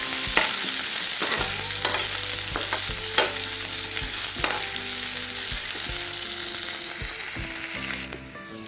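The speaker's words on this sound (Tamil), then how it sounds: "கடுகு பொரிஞ்ச பிறகு கட் பண்ணி வச்சிருக்க சின்ன வெங்காயம், அது கூடவே வரமிளகாய் சேர்த்துக்கோங்க. வெங்காயம் நல்லா வதங்கட்டும்." Small shallots and dried red chillies fry in hot oil after mustard seeds have popped, giving a loud continuous sizzle with intermittent crackles and spatula scrapes close up.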